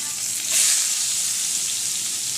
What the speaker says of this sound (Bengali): এবার তেলের মধ্যে আমি এখানে একটু পেঁয়াজ কুচি ছেড়ে দিচ্ছি